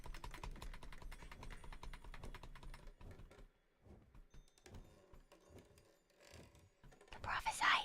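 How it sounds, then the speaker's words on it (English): A quiet computer keyboard clatters in fast, soft, close keystrokes at low level, dense at first and then sparser and intermittent, with faint whispering and a brief louder rustle at the end. "It's a really good thing I have my quiet keyboard out."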